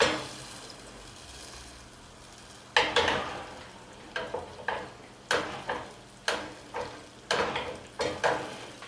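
Butter sizzles and spits in a hot pan while being swished around to melt the last bits. Steady frying hiss under repeated sharp swishing bursts in an uneven rhythm, close and moderately loud.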